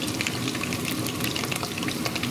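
Pieces of chicken fry in a pan to brown lightly, giving a steady, close sizzle with crackling pops scattered evenly throughout and no talking over it.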